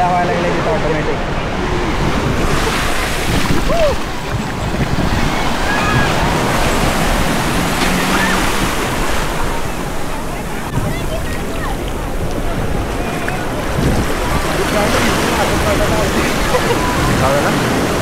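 Sea waves roll onto the sand at Miramar Beach in a continuous loud wash of surf, with wind noise and people talking nearby.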